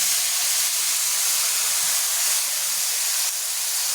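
Vegetables hitting hot spice masala of cumin paste and salt in a pan, giving a steady, loud, broadband sizzling hiss that holds evenly for several seconds with no talk.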